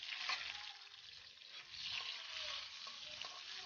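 Chopped tomatoes hit a hot pan of frying garlic and onion, setting off a steady soft sizzle with faint stirring scrapes, close but quiet, no talking.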